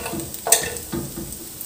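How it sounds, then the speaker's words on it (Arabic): Eggplant slices fry in a pan over a stove flame, giving a soft sizzle broken by a few short scraping bursts as they are stirred or shifted, close by with no talking. "وعلى الشعلة اللي كتكون دائما مهيلة كنخليو الحبات حتى كيطيبو، يعني حتى كتحمرو من الجهة التحتانية"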